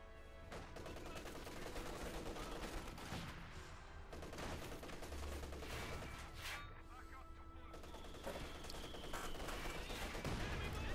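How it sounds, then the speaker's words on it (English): Machine-gun and small-arms fire crackle through a Company of Heroes 2 battle as an MG34 sets up, mixed with booms and dense war-game noise under continuous commentary. "In the west here we got the MG34 setting up."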